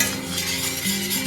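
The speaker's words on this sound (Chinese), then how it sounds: "这么炒一炒，它会香味儿都出来。" Chili powder stir-fried in a pan for enchilada sauce gives a steady, close hiss and sizzle, with faint scraping of the utensil against the pan.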